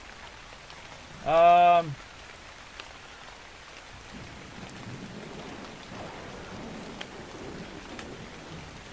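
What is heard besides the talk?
rain in the video game Eco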